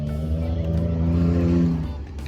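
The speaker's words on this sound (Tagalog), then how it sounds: "Okay, start na silang mag drive sa desierto." Car engines rumble and rev as vehicles set off for dune bashing in the Dubai desert, a steady moderately close drone with rising tones that fades slightly at the end.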